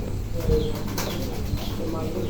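Large pigeons at a pigeon dealer's in Kushtia cooing softly in the background, low and muffled beneath steady noise, with someone talking over them.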